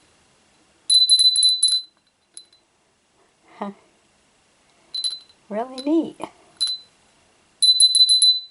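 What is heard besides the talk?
small black bell with fish design being rung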